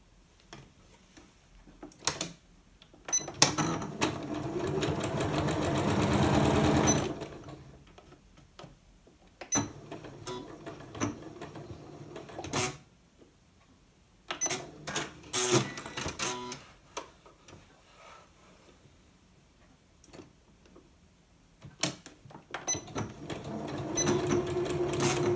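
A sewing machine stitches a quarter-inch seam on an appliqué machine-embroidered coaster, heard as a short, quiet run of stitching amid scattered clicks and handling knocks, with long near-silent gaps between them.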